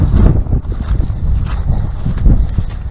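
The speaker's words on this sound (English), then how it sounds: "The wind is blowing, not unfavorably, but not favorably." Outdoor wind gusts buffet the microphone during a hunting-season outing, producing a loud, continuous low rumble and roar throughout.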